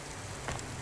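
Steady rain patters across surfaces in the rain-soaked city of Cloudpunk, a soft continuous hiss with one brief louder thump at the very end.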